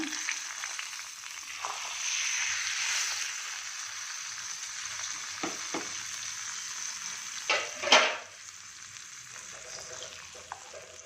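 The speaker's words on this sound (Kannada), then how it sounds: "ಇವಾಗ ಸ್ಟವ್ ಆನ್ ಮಾಡಿ ಒಗ್ಗರಣೆ ಮಾಡೋಣ" Loud, bright sizzling of a spice tempering in hot ghee that gradually settles, with a sharp burst of crackling near the end before it quiets.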